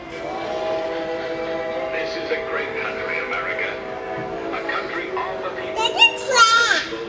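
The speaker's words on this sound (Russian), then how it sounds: "Поезд приехал и поехал дальше." Small children's railway train at a railroad museum, its horn or whistle sounding with a sustained, steady tone and a brief squeal near the end, while voices chatter in the background.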